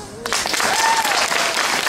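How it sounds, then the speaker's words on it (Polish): Applause breaks out suddenly and continues loudly from a gathered crowd at a school year opening ceremony, with a faint voice briefly audible beneath the clapping. "Proszę o brawa."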